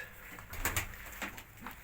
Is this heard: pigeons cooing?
yes